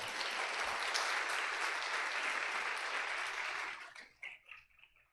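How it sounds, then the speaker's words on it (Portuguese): Church congregation at a Videira church gathering applauding together, a dense sustained wash of clapping that holds steady for several seconds, then thins into a few scattered claps and fades out. "Você pode aplaudi-lo nessa hora, ele está aqui."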